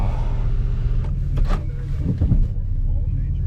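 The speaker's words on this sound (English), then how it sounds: "The engine's still warming up, so I'm gonna keep this in my hands" A car engine idles and warms up on a snowy, freezing morning, a low steady rumble under a few muffled knocks and rustles nearby.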